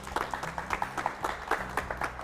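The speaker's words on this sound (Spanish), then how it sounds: "Quiero que recibamos con un fuerte aplauso" A studio audience claps to welcome actor Jorge Cao onto a Spanish-language talk show, steady moderate applause with irregular hand strikes over a low hum, a little faint and fairly close.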